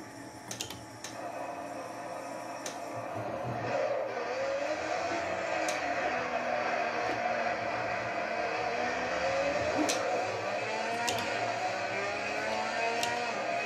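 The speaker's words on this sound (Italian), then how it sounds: "questo caso con una Porsche GT3 sul circuito di Spa" A Porsche GT3 racing car engine in a video game drones steadily at high revs around the Spa circuit, shifting pitch through gear changes, with clicking and tapping sounds from a steering wheel close by.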